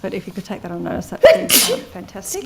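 A single sharp sneeze bursts out at a government budget estimates hearing, loud and close, cutting in right after a man's steady speech.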